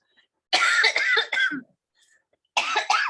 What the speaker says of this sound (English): I swore I was going to fight that cough today